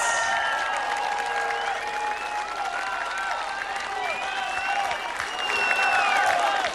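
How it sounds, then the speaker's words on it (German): An audience at an outdoor summer concert in Malchow gives sustained, loud applause for a tribute band, with whistles and cheers rising over the steady clapping throughout. "Hier ist euer Applaus."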